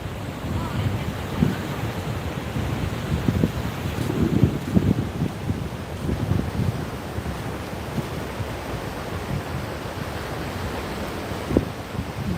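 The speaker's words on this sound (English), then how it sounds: "So is the wind bothering you too bad?" Wind buffets the microphone on the beach at Hua Hin, a steady loud rushing roar with surf mixed in and occasional gusty thumps, with no speech.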